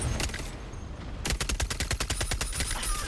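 Rapid gunfire in the team shooter Concord, with sparse shots at first, then a dense run of loud, evenly spaced automatic bursts close by.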